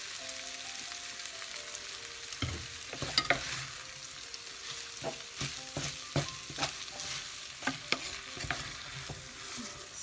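Olive oil sizzles steadily in a pan while ingredients are stirred, with scraping knocks and clinks of a utensil recurring throughout, close and fairly quiet, with no talking.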